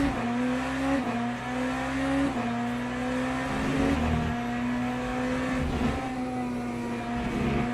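Onboard sound of an LMP3 prototype race car lapping Portimao in the racing sim Le Mans Ultimate: a loud continuous engine drone that rises and falls sharply through gear shifts, close and alone.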